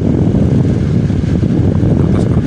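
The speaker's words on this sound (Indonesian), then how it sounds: "dan kipas anginnya langsung ngegas kenceng banget." A Cosmos electric fan, just repaired after a blown thermal fuse, runs at its high setting with a loud, steady whooshing roar of moving air that holds constant throughout, with no voices.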